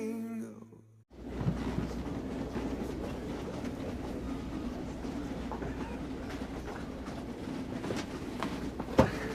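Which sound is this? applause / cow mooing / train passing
train passing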